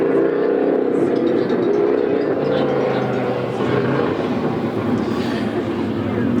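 Sprint cars racing around a speedway track at Coos Bay Speedway during a Western Sprint Tour event, a steady loud engine roar sustained throughout, with an announcer talking over it.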